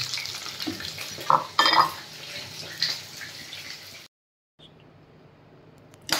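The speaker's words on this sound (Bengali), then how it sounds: "খুব বেশি কড়া করে এতে ভাজতে হবে না, অল্প অল্প করে ভেজে এটাকে আমাকে তুলে নিতে হবে" Fish heads frying lightly in oil in a home kitchen pan, a steady soft sizzle with scattered clinks and scrapes of utensils, a brief gap of silence midway, and no talk.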